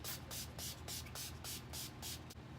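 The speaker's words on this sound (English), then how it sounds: "I am going to spray the face with setting spray." A spray bottle of makeup setting spray misted onto a face gives a quick run of fine misting hisses, several short spritzes in a steady rhythm, close and soft.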